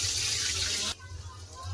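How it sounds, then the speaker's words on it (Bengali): Pointed gourd slices hit hot mustard oil in a pan, giving a loud, hissing sizzle for about a second before it settles into a quieter, crackling fry. "তেল গরম হয়ে গেছে, দিয়ে দেবো পটল।"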